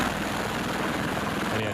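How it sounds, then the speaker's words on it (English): A helicopter's rotor chop and engine roar fill the whole stretch, loud, steady and close, with a continuous beating rumble and no break. "Sounds like a helicopter to me."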